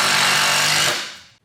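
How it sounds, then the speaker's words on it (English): A power driver with a DeWalt FlexTorq Phillips bit spins a number 3 Phillips-head screw home. It gives one loud, steady whirring burst of just under a second, then quickly fades to silence. "The bit really bites into that number 3 head of that screw."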